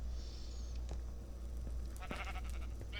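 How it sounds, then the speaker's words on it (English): A sheep character in a video game bleats softly over a low steady hum, a few faint, brief calls rising out of the quiet background. "Hi, Librarian Sheep."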